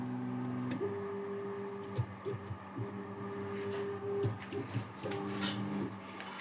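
A 3D printer homes all its axes, its stepper motors giving sustained tonal whines in several steady pitches broken by short clicks and pauses, close and moderately loud with no voice.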